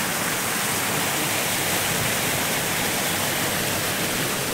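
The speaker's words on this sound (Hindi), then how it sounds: "देख सकते हैं यहाँ पे गिर रहा है, प्रॉपर गिरता है पानी यहाँ से।" Water pours steadily from a small river into a larger one beside rice paddy fields in the morning, a continuous broadband rush of falling water filling the whole clip, close and loud with no talking.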